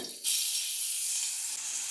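Steady, bright sizzling of chopped garlic frying in hot oil for vegetable Manchurian, starting abruptly and continuing evenly without any talk.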